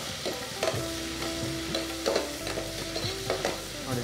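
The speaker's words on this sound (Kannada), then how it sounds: "ನೋಡಿ, ಈರುಳ್ಳಿ ಚೆನ್ನಾಗಿ ಫ್ರೈ ಆಗ್ತಾಯಿದೆ" Onions frying in a pan for tomato bath, a steady crackling sizzle with repeated scraping strokes of a spoon stirring, close by.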